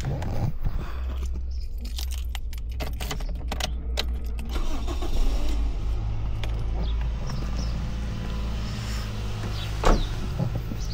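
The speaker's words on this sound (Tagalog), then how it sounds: "Ayan, paanda rin natin yung sasakyan." A car engine cranks and fires up, then settles into a loud, steady idle close by, with no talking.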